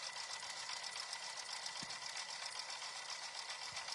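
A sewing machine stitching a quilted mug rug at high speed: a continuous, fast, even mechanical whir and buzz throughout, fairly quiet and steady, with no talking.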